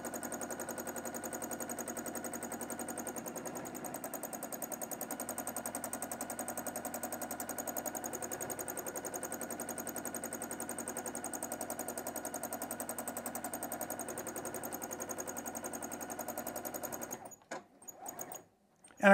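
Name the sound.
sewing machine free-motion stitching a quilt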